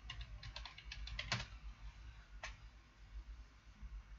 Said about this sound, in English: You have to type in your password, of course.